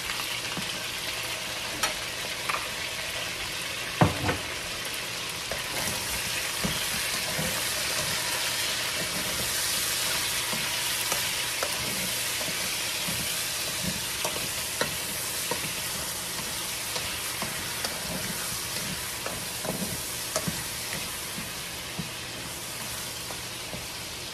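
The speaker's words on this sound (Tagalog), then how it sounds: "lutuin ko muna tong chicken bago ko ilagay yung binoy ko na munggo guys" Chicken sizzles and fries steadily in a pan for ginisang munggo, a constant close crackle with occasional stirring scrapes and no talking.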